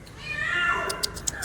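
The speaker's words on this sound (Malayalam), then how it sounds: "പൂച്ചയുണ്ട് കേട്ടോ, പൂച്ചയുണ്ട്." A cat trapped inside a well gives a short, fairly close meow, followed by a few faint sharp clicks or taps, with no speech over it.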